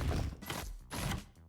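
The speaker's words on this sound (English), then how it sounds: "The projectiles also have a custom explosion." A custom projectile explosion from a rocket-type tower skin in the Roblox game Tower Defense Simulator, heard as two loud, crackling bursts in quick succession with no talk over them.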